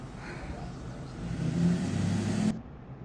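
A truck engine revs and builds into a louder, rougher roar over a couple of seconds, then cuts off abruptly, leaving a quieter rumble.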